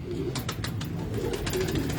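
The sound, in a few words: pigeon cooing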